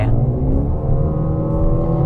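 A Mercedes-AMG GLA 35 4MATIC in Sport Plus accelerating hard to overtake, its engine note a steady, loud, rising drone heard from inside the car with no talking.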